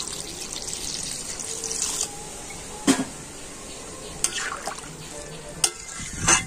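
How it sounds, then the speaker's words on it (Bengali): Hot water poured into a potato curry frying in a pan, heard as a close, moderate splashing and sizzling with stirring clinks and a few sharp scrapes. "আর এবার আমি দিয়ে দেবো গরম"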